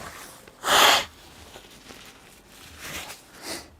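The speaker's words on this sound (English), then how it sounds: "I have to blow my nose." A person blows their nose close to the microphone, one loud short honking blast followed by a couple of softer sniffs and rustles a few seconds later.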